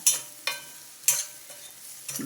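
Crumbled dried curry leaves crackle in hot oil in a pan for bitter gourd masala powder, with a few sharp, close bursts of sizzle and stirring at irregular intervals.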